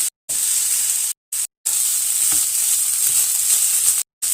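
Cooked rice tossed in a hot frying pan gives a loud, close, hissing sizzle that cuts out abruptly in several short gaps before resuming.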